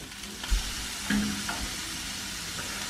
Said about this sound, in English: now I'm just going to fry these onions off just for a couple of minutes, just brown them up a bit